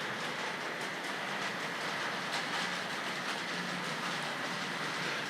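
A Tri-ang and Hornby Dublo model train locomotive runs around layout track with a steady whirring rumble and soft rhythmic clicking over the rails, continuous and fairly close, with no talking.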